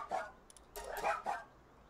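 Dire Howl from the video game Palworld gives three quick, sharp bark calls, close and clear, with a short pause between the first and the last two.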